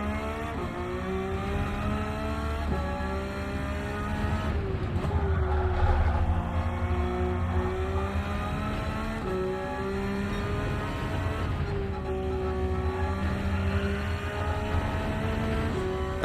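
A Porsche race car in Gran Turismo 7 sounds as a loud sustained engine whine that climbs through the gears, drops on each shift and rises again over a continuous road roar, with no voices.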